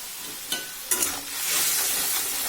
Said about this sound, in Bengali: এবারে মশলাটা খুব ভালোভাবে কষিয়ে নেবো